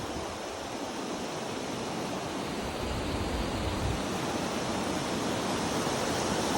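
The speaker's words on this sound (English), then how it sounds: "this water stream is nicely flowing down and then blends with the Buttermere Lake" A waterfall stream flows down into Buttermere Lake in the Lake District, a steady broad rushing of water heard up close and continuous throughout.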